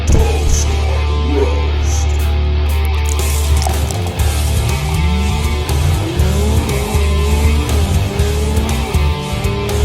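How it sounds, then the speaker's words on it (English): Tires squeal loudly over a roaring Aston Martin Valhalla engine, with rising and falling screeches as the car skids and revs, close and continuous. "I hear a squealing noise"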